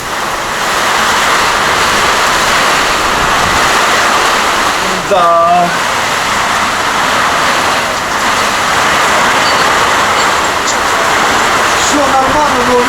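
Strong hurricane wind roaring steadily and loudly outdoors, with rain persisting, as someone speaks briefly over it and another voice cries out later.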